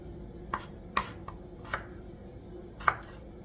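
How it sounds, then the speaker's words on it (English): A knife thunks sharply against a cutting board a handful of times at uneven intervals while dicing potatoes, close and crisp in an otherwise quiet kitchen. "So now we're just dicing our potatoes."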